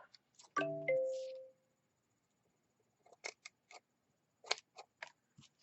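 Scissors snipping off material while finishing an altered craft tag, several short crisp close cuts in quick succession after a brief tonal chime near the start, no speech.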